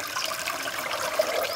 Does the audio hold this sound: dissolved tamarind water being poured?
yes